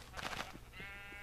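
A sheep bleats in the Minecraft video game, a short wavering baa heard twice in quick succession, loud and close, with no speech over it.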